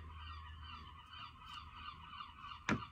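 Birds call outdoors in a garden, a steady chorus of chirps and whistles with one loud honking call, goose-like, near the end.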